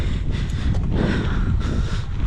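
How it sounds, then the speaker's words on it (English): Steady wind rushes and buffets across the microphone in a loud, continuous roar with gusty swells, during a cold hardtail mountain bike climb. "It's windy"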